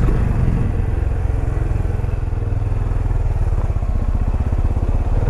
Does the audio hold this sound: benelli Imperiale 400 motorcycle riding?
yes